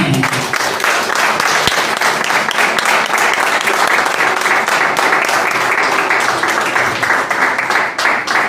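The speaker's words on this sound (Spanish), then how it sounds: "ese es el aplauso que me merezco yo" A church congregation applauds after a sermon and closing blessing, a dense, steady wash of clapping that holds at an even loudness from start to finish.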